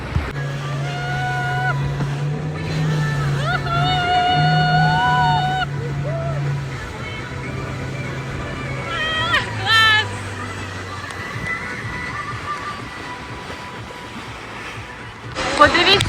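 A small boat motoring away from a beach, its engine a steady low hum over wave noise, with people talking and calling out close by throughout.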